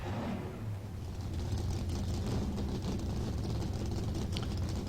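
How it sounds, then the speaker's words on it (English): Race car engines in the NASCAR Racing 2003 video game, a dense continuous low rumble of many motors idling and droning together, steady and fairly loud. "Drivers, start your engines."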